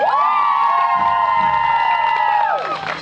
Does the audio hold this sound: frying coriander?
no